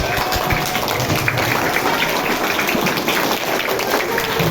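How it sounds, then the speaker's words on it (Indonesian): Children clapping their hands together in a school assembly, a brisk, steady patter of many small hands that continues evenly, resembling rain. "tepuk tangan lagi"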